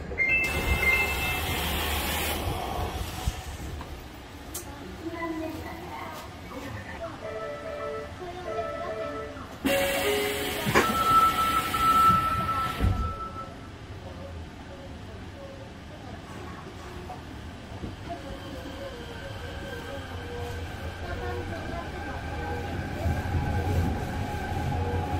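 Fukuoka subway Nanakuma Line train, a newer car with a blue stripe, rumbling along underground with rising and falling wheel and motor noise, bursts of high hiss and squeal, and people talking nearby.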